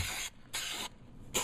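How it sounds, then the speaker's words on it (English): An aerosol can sprays in short bursts inside a car trunk during a trunk bottom install: three hissing puffs, close and sharp, separated by brief pauses. "So go ahead and spray up in there if you want."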